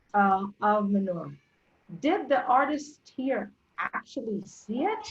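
Cats meow repeatedly at close range during a guided tour of Magdala, with several short drawn-out calls interleaved with a voice talking.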